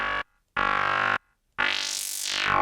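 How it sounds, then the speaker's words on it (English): Serum 2 synthesizer FM tones sound as three separate bright, buzzing synth notes with short gaps between them, the last one sustained and sweeping in timbre, loud and close with no talk. "we're already getting some very cool FM tones out of that"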